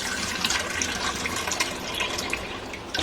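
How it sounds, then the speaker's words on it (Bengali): Water poured into a pot to make thin sugar syrup for rasgulla, a steady close gushing splash that runs without pause for the whole stretch. "এখানে আমি আট বাটি জল দিয়ে দেব"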